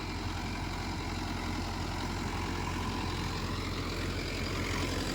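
A Mahindra Yuvo Tech+ 585 tractor engine idles with a steady, low, rumbling drone heard up close, unbroken for several seconds.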